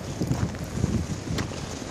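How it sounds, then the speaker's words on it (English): Blizzard wind in Maine blowing hard down a snowy street, a brief rough gusting roar with buffeting rumble against the microphone. "wind coming right down the street"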